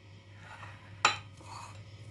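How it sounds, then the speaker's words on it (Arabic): A metal spoon stirring Nescafé coffee in a dish for coffee-flavored biscuit dough, with soft scraping swirls and one sharp clink against the side, quiet and close with no talking. "هنبدأ معلقة برضو النسكافيه نقلبه كويس"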